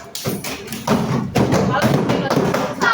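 Palms thump on school desks in a steady counting rhythm, with a few short gaps, fairly loud and close, while a teacher's voice speaks over the tapping.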